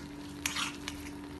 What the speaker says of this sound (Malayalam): ഇതിനി ഇളക്കി മിക്സ് ചെയ്ത് തിളപ്പിക്കാം